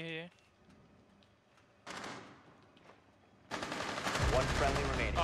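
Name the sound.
gunshots in a video game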